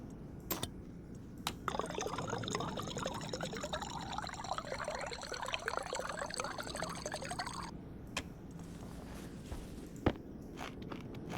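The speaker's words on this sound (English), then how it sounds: "Let's get some water going." Water is poured or filling a container indoors, a steady splashing gurgle lasting several seconds before it stops abruptly, with a few scattered knocks and clicks around it.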